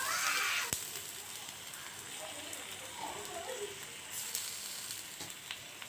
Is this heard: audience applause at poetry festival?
no